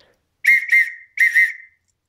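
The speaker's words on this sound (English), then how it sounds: "I've got a whistle in there" Survival whistle from British Army webbing kit blown in two quick double blasts, loud and close, each pair of shrill trills ending in a short tail, with silence between.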